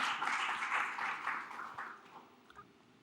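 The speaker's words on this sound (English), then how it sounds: "Can we give a round of applause to our amazing presenters?" Audience applauding presenters at the close of a talk on biodiversity conservation incentives, a steady wash of clapping that holds for about two seconds and then thins out and fades, with a few last scattered claps.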